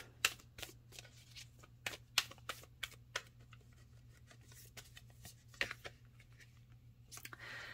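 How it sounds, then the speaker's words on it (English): A deck of cards is shuffled and handled quietly and up close in a series of crisp riffles and flicks, followed by a few softer taps and shuffles. "One more card from that deck."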